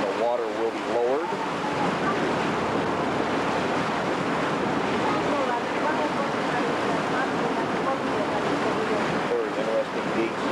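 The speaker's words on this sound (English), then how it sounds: "this is the gate that will be closing behind the ship, and the water will be lowered" Water draining as a ship lock is lowered at Kuusakoski, Finland: a loud, steady, continuous rushing roar with wind buffeting the microphone, close and unbroken throughout.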